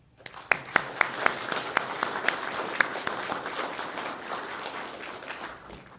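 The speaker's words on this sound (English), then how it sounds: "Please give them a round of applause in showing of our appreciation and support for their leadership." A graduation ceremony crowd applauds steadily for several seconds, with a few sharp, distinct claps standing out early on, the clapping dense and moderately distant.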